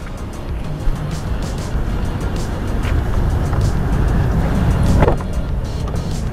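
A heavily modified Toyota Fortuner with an aftermarket exhaust rumbles steadily and loudly up close, a deep continuous engine drone with a slight rise near the end and no talking.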